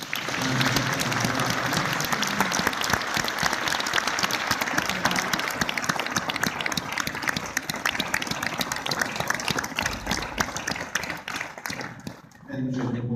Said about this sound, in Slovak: ešte jeden veľký potlesk pre nich.